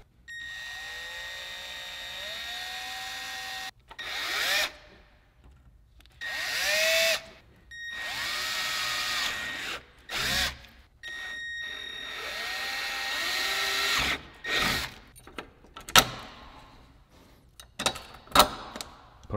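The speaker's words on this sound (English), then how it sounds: "I marked off the holes that we're gonna drill for the bracket." Power drill boring holes for an oil cooler bracket while fitting an HKS DCT oil cooler on a Nissan GT-R, heard as several short bursts with the motor whining up and winding down, separated by brief pauses.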